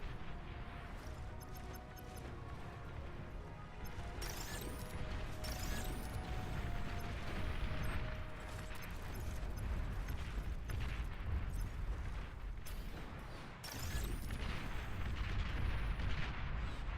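Explosions and heavy battle noise from a Beyond All Reason real-time strategy match, with a loud, dense rumble of blasts and mechanical fire sustained throughout and bursts that sharpen near the middle and end.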